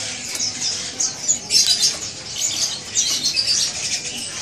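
Keling bird calling at a bird market, a run of bright high chirps and whistles in repeated bursts, fairly close, with faint market bustle underneath.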